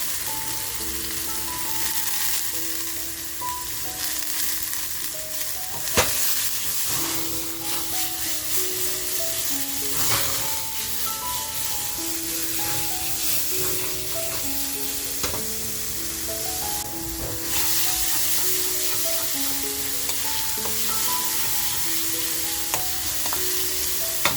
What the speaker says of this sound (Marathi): त्यानंतर बघा जो आपण कांदा टाकून घेतलाय तो कांदा टाकते